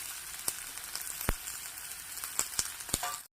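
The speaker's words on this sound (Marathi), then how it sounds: "कांदा आपल्याला छान मऊसर होईपर्यंत परतून घ्यायचा आहे" Two medium chopped onions sauté in hot oil with a pinch of salt, giving a soft, steady sizzle broken by a few sharp clicks of stirring, close and without talk.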